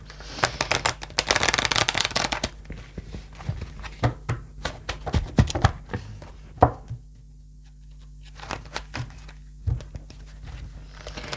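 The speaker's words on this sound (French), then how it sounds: "j'ai envie de prendre quelques cartes, comme c'est le week-end" A deck of playing cards is shuffled close by, with a dense riffling burst near the start followed by scattered taps, thumps and quieter card handling.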